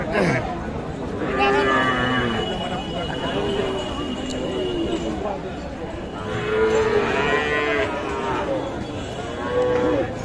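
Cattle at a busy livestock market, where bulls are sold, moo repeatedly in long, loud bellows close by, heard over a steady crowd chatter.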